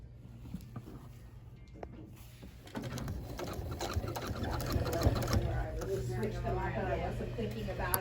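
Sewing machine stitching down a green holiday door quilt, its motor running in a steady continuous hum under a person talking nearby.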